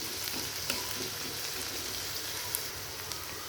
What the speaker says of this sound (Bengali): তেলটা গরম হয়ে গেছে এবার কেটে রাখা পেঁয়াজগুলো দিয়ে দিব একটু নেড়ে চেড়ে দেব